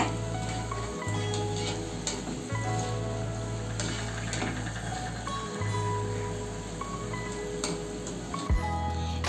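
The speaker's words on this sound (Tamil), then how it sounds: "இது ஒரு அஞ்சு நிமிஷம் வந்து எண்ணெயில் வந்து ஃப்ரே ஆகணுங்க" Potato snacks deep-frying in hot oil give off a steady, low sizzle that runs throughout, with occasional soft clicks as a ladle turns the pieces.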